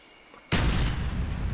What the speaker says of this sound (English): you got the oil barrels there as well, so it makes a double explosion